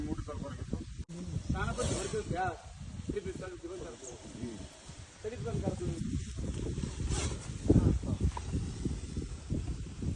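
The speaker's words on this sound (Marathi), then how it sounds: "याला इंग्लिशमध्ये इंडियन स्पेक्टिकल कोबरा असं म्हणतात" An Indian spectacled cobra hisses in short bursts, mixed with rustling and partly masked by someone talking close by through most of the clip.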